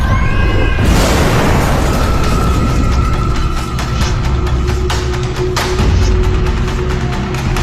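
Heavy explosion from an army tank attack on a Sikh shrine, a loud boom near the start followed by sustained rumbling, crackling debris and continuous battle noise throughout.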